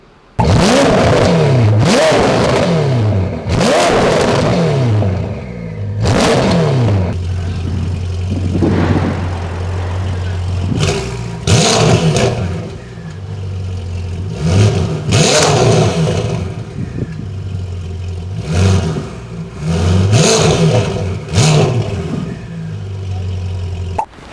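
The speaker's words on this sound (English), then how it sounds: "show you exactly what this exhaust sounds like" A Ferrari's exhaust roars through repeated hard revs, each surge climbing and falling back to a low idle, loud and up close.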